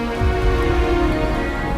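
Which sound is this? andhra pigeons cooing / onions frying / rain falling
rain falling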